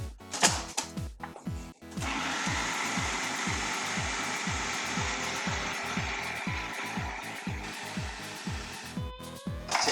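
A food processor chopping cilantro for guacamole, starting with a few short pulses and then settling into a steady, loud motor whir with a rhythmic blade thump, stopping near the end.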